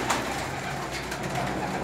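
Domestic pigeons, including short-beaked tumblers and classic Hünkâr birds, coo softly and continuously inside a coop. The sound is steady and moderately faint, with no talking.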